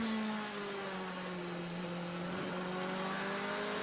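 Onboard an Audi touring car racing at Hockenheim in the German Touring Car Masters, the engine screams at high revs in a steady, slowly shifting whine, moderately loud with no talk.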